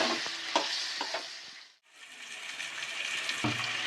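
Taro stems with shrimp stirred in a frying pan: loud, continuous sizzling with scraping strokes of a spatula, briefly dipping quiet midway before resuming.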